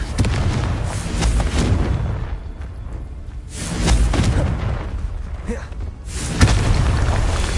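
Confringo blasting spell in the video game Hogwarts Legacy, bursting in loud booming explosions with rumbling low-end, several heavy blasts in succession over a dense game soundscape.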